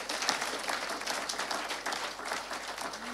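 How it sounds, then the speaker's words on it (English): Audience applause at a Homecare Fellowship 40th anniversary gathering, a fairly quiet, steady patter of many hands clapping throughout. "Let's give them a big clap."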